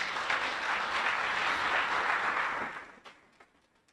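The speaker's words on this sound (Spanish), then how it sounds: "¿No le das un aplauso al Señor por eso?" A church congregation applauds in a dense, even burst that holds for a couple of seconds, then thins and fades to a few scattered claps.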